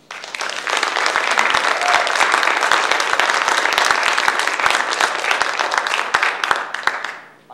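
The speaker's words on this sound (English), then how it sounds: "Please welcome these three men with a very, very warm and hearty applause." A conference audience at Wartburg College in Waverly, Iowa breaks into loud sustained applause, many hands clapping densely for several seconds before tapering off.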